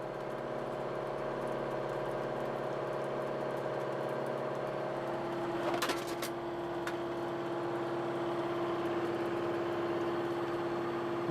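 A machine cutting hot rolled steel runs with a steady mechanical drone and whine, a brief rattle of cutting near the middle, and a tone that shifts slightly as the speed changes, close by.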